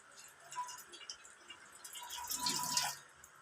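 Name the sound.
water being poured into milk for making paneer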